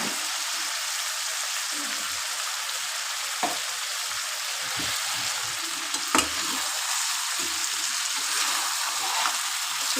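Chicken fries in oil while being stirred for a dak bungalow chicken curry, a dense steady sizzle with occasional sharp scrapes of the spoon against the pan, close and continuous.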